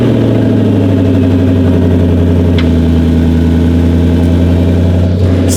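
A twin-turbo Ford GT engine runs at a steady, loud idle with a deep, even rumble and no talking over it.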